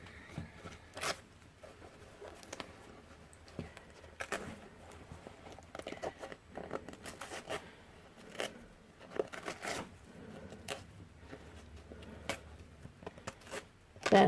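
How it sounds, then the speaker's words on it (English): Excess embroidery stabilizer torn away along a zipper on an in-the-hoop scallop pouch, heard as a run of short, close tearing and crinkling bursts scattered irregularly across a quiet background. "First thing I want to do is remove the excess stabilizer"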